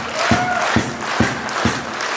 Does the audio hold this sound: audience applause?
yes